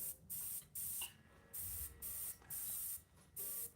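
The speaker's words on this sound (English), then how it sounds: "That's why it's good to spray your ink down, and then it'll darken that area up" Ink is sprayed onto a painting in six short, crisp hissing bursts of spray at an even rhythm, close and fairly quiet, with brief gaps between them.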